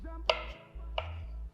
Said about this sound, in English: Chop up the shrimp.